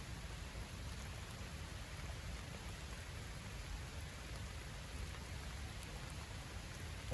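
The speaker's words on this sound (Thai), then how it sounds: "เพราะฝนตกมาทั้งวันละ" Steady rain after a full day of downpour, an even, continuous hiss of falling water, faint and unbroken, with no talk.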